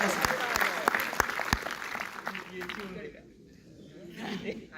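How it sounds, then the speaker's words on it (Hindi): Applause from the audience at a comedy poetry gathering run by a staff club, a burst of clapping with sharp individual claps that fades out after about three seconds, leaving quieter room noise. "आइए जोरदार तालियों से डॉक्टर मालिका हजूम जी का स्वागत"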